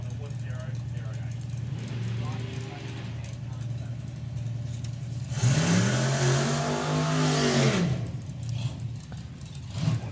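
A drag racing car, an altered, roars past down the strip at mid-distance, its engine note swelling and rising for a couple of seconds under steady talk before fading back into a droning background hum.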